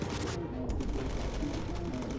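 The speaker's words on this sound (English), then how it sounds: "No, that's enemy fire." Enemy fire in the aerial combat game Bomber Crew, a dense steady rattle of gunshots and bursts filling the whole stretch with a low rumbling bed beneath, loud and continuous without pauses.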